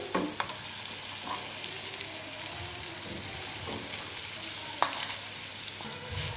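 Green pigeon peas and green peas fry in hot oil with sesame seeds, a steady close sizzle with occasional crackles and stirring scrapes, no voices.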